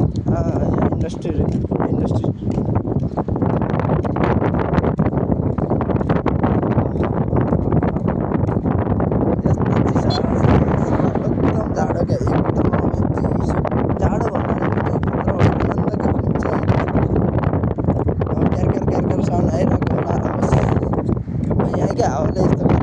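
Strong natural wind buffets the microphone in Ruwais, a steady roaring rumble that fills the whole stretch, loud and close, with little letup.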